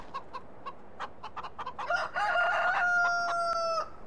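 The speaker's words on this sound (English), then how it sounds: "Let's have a look at the animation of the chickens." Chickens and a cockerel in the farming game Farming Simulator 15: a run of short clucks builds into a loud, drawn-out cock-a-doodle-doo crow, heard close and alone without talk.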